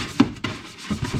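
A Dodge Charger R/T is scrubbed with car wash soap and a wash brush, giving a few short, rough rubbing strokes in quick bursts close up.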